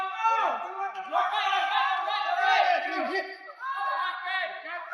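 At an overseas fight night, a crowd shouts and cheers in bursts of overlapping voices as a Chinese fighter makes his entrance. The noise is loud and continuous, dipping briefly before swelling again.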